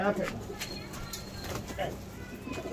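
A kept pigeon coos in low, repeated throaty bursts close by, while someone talks over much of it.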